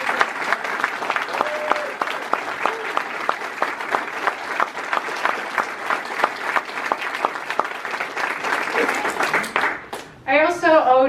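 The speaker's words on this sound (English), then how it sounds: "let's give a big round of applause to Jeffrey" An audience at a thank-you party program claps steadily for about ten seconds, a dense even wash of applause that fades before a voice begins speaking.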